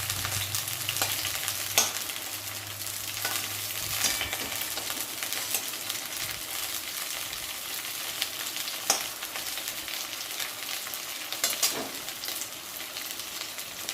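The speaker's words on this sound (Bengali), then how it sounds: "ওই আলুর তেলের মধ্যে ব্রকলিটা হালকা ভাজা করে নিচ্ছি।" Steady sizzling of broccoli frying in hot oil left from frying potatoes, close and continuous, with occasional scrapes and stirring clatter.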